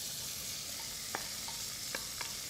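Chopped onion sizzling in a risotto pan, a dense steady hiss of frying with a few soft scrapes as it is stirred, close and alone.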